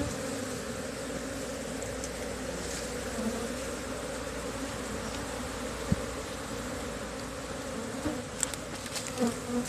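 An Apis cerana honey bee colony clustered in a small tree hums in a dense, steady buzz close by, with a few faint knocks and handling noises.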